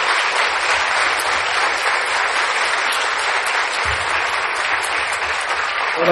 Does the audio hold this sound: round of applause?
yes